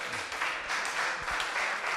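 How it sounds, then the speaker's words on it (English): Audience members clap at a regional political dialogue on fisheries in a brief, even burst of many hands, moderately distant and without speech. "When you are clapping, clap better."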